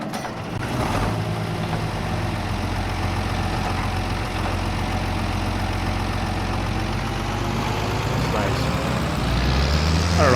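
The Ursus tractor in Farming Simulator 22 idles with a steady, low diesel rumble that holds constant throughout, with a voice talking over it.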